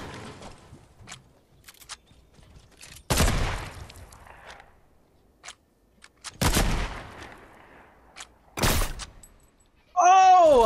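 Gunfire in the video game Fortnite rings out in several loud, separate shots and brief bursts spread across the clip, with quiet gaps between them.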